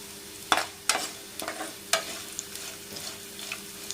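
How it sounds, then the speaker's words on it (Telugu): Cumin seeds and garlic cloves frying in oil for ginger chutney make a soft, continuous sizzle close by, punctuated by several sharp metallic clinks of a spoon against the pan. "జీలకర్ర వేసుకుందాం అలాగే నాలుగు రెంబల వెల్లిపాయలు వేసుకుందాం"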